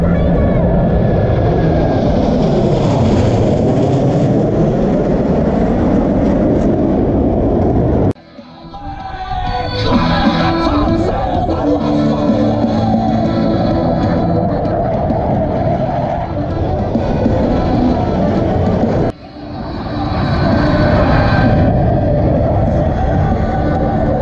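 Blue Angels jets at the 2018 Vero Beach air show, a loud continuous roar of jet engines sweeping past, with a sharp break and renewed surges as aircraft peel away, under an announcer's voice.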